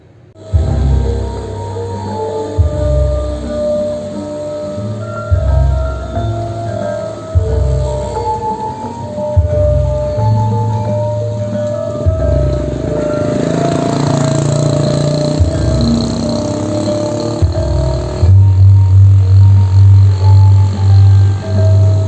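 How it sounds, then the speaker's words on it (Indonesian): Gamelan music blares from a residents' loudspeaker in front of the Singolangu mountain post, loud and near, with repeated pulsing low gong strokes and a sustained metallic drone, ending in a strong steady low tone. "itu tadi adalah bunyi gamelan dari speaker yang langsung di depan pos"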